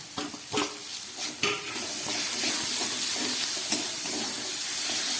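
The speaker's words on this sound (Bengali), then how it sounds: "খুব ভালো করে মশলাটাকে আমি একটু মশলার জল দিয়ে দিলাম, দিয়ে কষিয়ে নিচ্ছি।" Ginger-garlic paste with turmeric and green chillies fries in a pan for a spiced chickpea curry, with a loud continuous sizzle and hiss and several sharp spoon scrapes and clacks near the start, and no talking.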